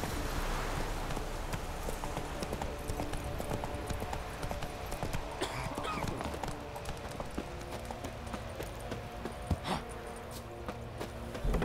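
Horse hooves clip-clop steadily in The Witcher 3, a loud, continuous trotting rhythm that runs the whole way through.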